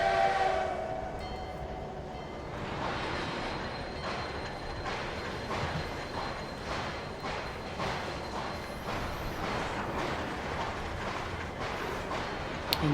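Simulated freight train shunting cars in Trainz 2022, a rumbling rolling drone with rhythmic wheel clatter, squealing wheels and a faint high horn-like tone, steady and fairly close throughout with no talk.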